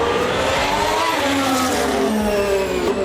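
Formula 1 race cars roar past close by, a loud, continuous high engine scream with pitch sweeps as cars go by and overlap, and no voices.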